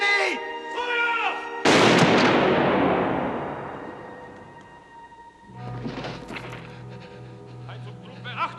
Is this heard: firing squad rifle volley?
yes